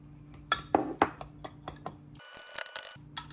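A spoon clinks and taps against a bowl while cucumber kimchi seasoning is mixed with sugar, a few sharp close knocks followed by brief scraping.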